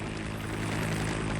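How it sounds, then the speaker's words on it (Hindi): A military helicopter firing rockets in Ukraine: a dense, steady engine and rotor roar fills the whole moment, loud and continuous, with no separate launch blasts standing out and no voices. "यूक्रेन ने हेलीकॉप्टर से दागे हैं रॉकेट"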